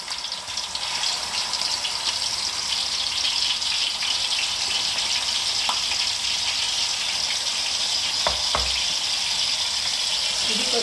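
Onion paste fries in a pan as the gravy base for a Rayalaseema-style fish curry, a loud, steady sizzle and hiss throughout with a couple of brief clinks near the end.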